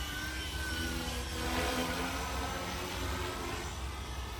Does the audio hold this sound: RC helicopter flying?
yes